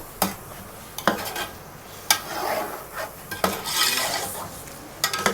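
Chicken pulao being stir-fried with spices in a pot, sharp metal spoon clanks against the rim every second or so between stretches of scraping and soft sizzling, close and clear with no talk.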